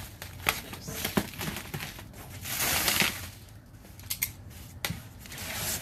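A blade slices through cardboard while a pallet of boxes is opened, producing scratchy cutting strokes and rustling, with one longer rasping cut in the middle and sharp taps between.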